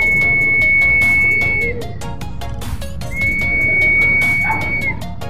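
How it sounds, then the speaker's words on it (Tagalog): Long, steady whistled tones held for about a second and a half each, two clear whistles separated by a pause, over busy outdoor background noise. "Ayan, may sumisipol na."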